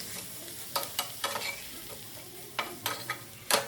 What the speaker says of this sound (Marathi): हे व्यवस्थित असं ह्या मसाल्यासोबत परतून घ्यायचं